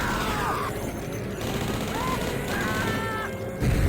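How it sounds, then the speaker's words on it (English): Weapon fire aimed at cultists in the video game Blood comes through as a dense run of bursts and booms over a constant noisy bed, mixed with short whooshing game effects, with a heavier hit near the end. "Now let's gun down all of these cultists and fanatics and acolytes, the works."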